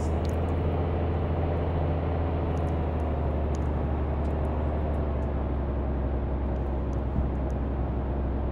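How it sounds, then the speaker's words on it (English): Cirrus SR22T light aircraft taxiing toward the runway, heard from inside the cabin as a steady, loud droning engine and propeller hum with a low rumble that stays constant throughout. "And I believe we are ready now to taxi over to runway 3."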